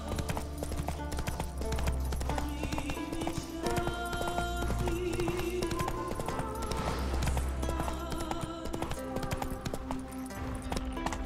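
Roach the horse galloping in The Witcher 3, steady rhythmic hoofbeats running on and on under a game soundtrack and ambience.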